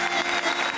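Audience applause in a comedy TV show studio, a steady dense wash of clapping that fills the short moment without talk.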